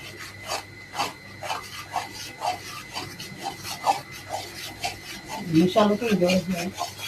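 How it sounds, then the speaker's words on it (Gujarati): Flour being stirred into hot sugar syrup for adadiya, a repeated scraping, rubbing rhythm of spoon against pan, close and steady, with a louder thicker stretch of mixing near the end. "સરસ મજાનો લોટ ચાસણીમાં ઉમેરાઈ ગયો છે. હવે એને બરાબર આપણે મિક્સ કરવાનું છે."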